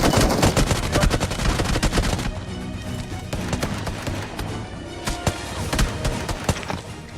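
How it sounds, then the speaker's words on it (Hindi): Gunfire in a battle royale video game: dense, loud bursts of automatic fire and single shots crackling almost nonstop, with a sharp volley at the start and scattered louder reports through the rest. "आसपास से भी बंदे फायर कर रहे थे"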